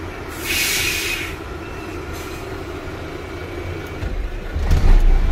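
A 2015 Mercedes-Benz Axor 2544 truck engine starts up and settles into a loud, steady diesel rumble heard close by, with the low roar swelling briefly near the end.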